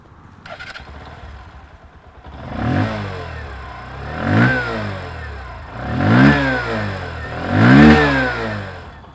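A Bajaj CT125X motorcycle engine revs up four times in a row, each rising and falling throttle blip loud and close, the exhaust note growling over a steady idle.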